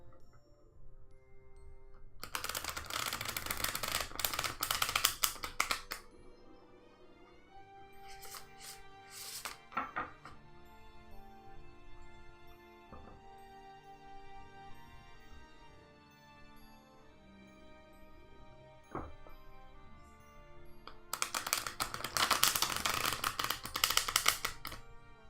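A tarot deck is shuffled in two loud bursts of riffling cards at the start and end, with softer handling and tapping of cards in between, close up and alone.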